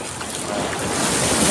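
Ocean waves wash in at Lingayen beach, Pangasinan, with a broad hiss that swells louder toward the end, mixed with some wind.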